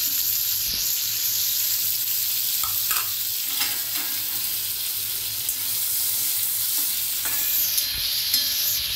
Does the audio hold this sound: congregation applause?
no